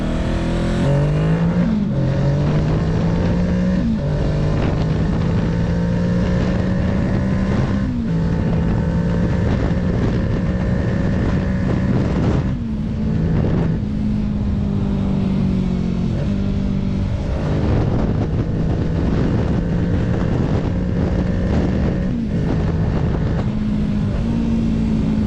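A Kawasaki Ninja 650 40th Anniversary Edition motorcycle being ridden, its engine note rising and falling through gear changes as it brakes, with steady loud wind and road noise throughout.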